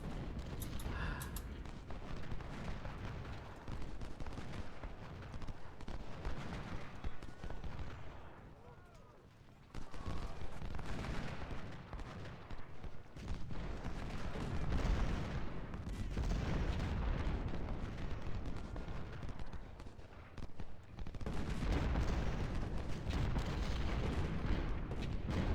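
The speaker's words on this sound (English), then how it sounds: "Couple canister shots into the cavalry." Canister shots and gunfire in a Civil War battle game at Port Republic: continuous rumbling artillery booms with crackling rifle volleys layered throughout, loud and sustained across the whole stretch, with a brief lull near the middle.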